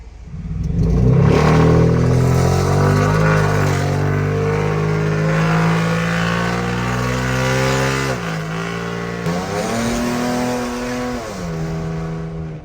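Ford F150 pickup truck with straight pipes and no catalytic converters, a loud close rumbling exhaust pulling hard through rising revs with a couple of brief gear-change dips, no talking.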